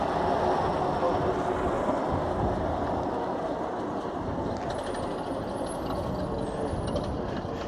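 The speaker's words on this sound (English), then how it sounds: "Sounds like a petrol engine in that." A vintage petrol-engined bus runs at a bus rally, its steady engine rumble continuous and fairly close throughout, with a faint voice briefly in the background.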